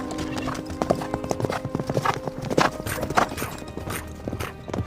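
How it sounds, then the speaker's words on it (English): A pair of horses set off down a mountain road, their hooves clip-clopping in a brisk, irregular rhythm close by, with a neigh and faint creaking alongside. "We hear the hoofbeats as the pair of horses take off down the mountain road."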